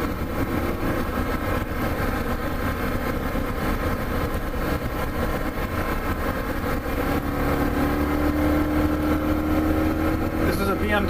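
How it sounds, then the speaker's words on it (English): A BMW R1200 RT touring motorcycle's engine gives a steady, continuous drone on a winter back-road ride near Tomales, California, with a rumbling low end and a faint tonal whine rising near the end. "BMW R1200 RT. It's my commuting bike."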